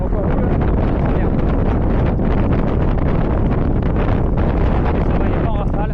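Wind buffets the microphone during a bikepacking ride, a loud continuous roaring rumble with gusty surges throughout, and no clear talk on top.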